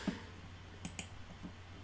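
Computer mouse clicks during a Football Manager 2016 session, two or three small quick taps close to the microphone over a faint steady room hum.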